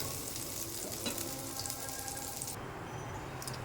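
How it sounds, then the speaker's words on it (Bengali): Prawn fritters fry in a pan with a steady close sizzle, and one brief sharp clatter comes partway through as the bright hiss drops and thins out toward the end. "ওই যে ভাজা দিয়েছি ফ্রাই প্যানে"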